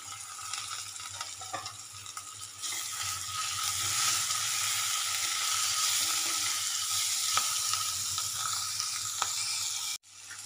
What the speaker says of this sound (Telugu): ఇప్పుడు ఇందులోకి పచ్చిమిర్చి, అట్లనే కొత్తిమీర, కరివేపాకు కూడా వేసుకొని ఒకసారి వేపుకుందాం